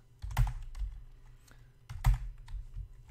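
Keystrokes on a computer keyboard while building quests in Minecraft with the Quests plugin, arriving in two short clustered bursts of clicks, close and fairly quiet, with no talking.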